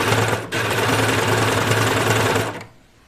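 A sewing machine stitches a pajama top seam at an awkward angle, running in a fast, steady whir for about two seconds after a brief pause, then stopping.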